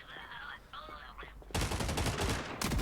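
Rapid bursts of gunfire in a shooter video game erupt loud and dense, following a few seconds of brighter tonal game sounds, with a short pause before a final burst.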